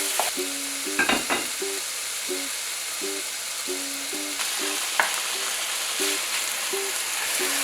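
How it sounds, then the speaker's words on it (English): A loud, steady sizzle of chicken frying in a hot pan continues throughout, with faint repeating tones in the background. "You know the pan's hot when you hear that sizzle."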